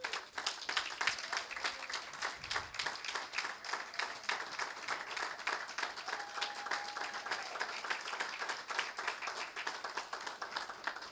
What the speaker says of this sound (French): applaudir encore plus fort avec joie et amour